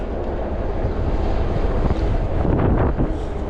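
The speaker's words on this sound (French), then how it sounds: "bon, il y a du vent" Gusty wind buffets the microphone outdoors during a fat-bike outing, a steady loud low rumble that swells and surges without any voice.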